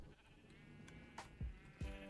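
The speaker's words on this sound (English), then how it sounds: "So over here you have all my sheep." Minecraft sheep bleat a few times in quick succession on a wool farm under a barn, short close calls over a quiet game ambience.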